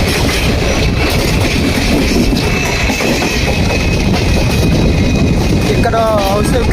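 An Intercity Express train running between Vizag and Srikakulam Road, a loud steady roar of wheels on rails with rhythmic clickety-clack and a brief wheel squeal near the end, heard from on board.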